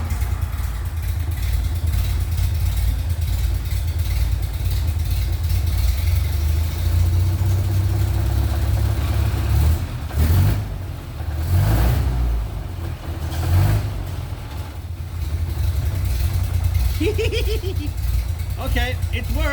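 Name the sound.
roadster hot rod engine starting, idling and revving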